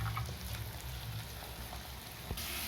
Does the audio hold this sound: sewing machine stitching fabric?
no